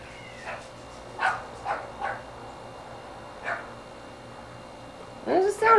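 Dogs barking and yipping in short separate bursts, somewhat distant and sparse, with a louder, closer whining yelp at the end over a steady background hum.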